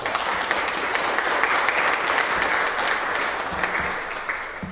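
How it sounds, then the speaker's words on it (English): Loud, sustained applause fills the chamber at a city council meeting as the audience claps for an official beginning a third term. The clapping is steady and dense, then tapers slightly at the end. "Let's give him one more round of applause."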